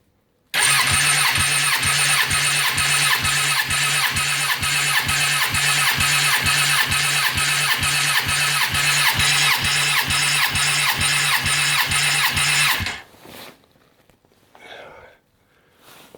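A Suzuki Bandit 1200 motorcycle engine cranks on the starter during a compression test, a loud, close, rapid pulsing churn that runs steadily for about twelve seconds and then cuts off, leaving faint background noise.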